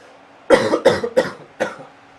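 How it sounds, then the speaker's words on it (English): Four sharp coughs in quick succession, close and loud, with a short pause before the last one. "I also need to cough"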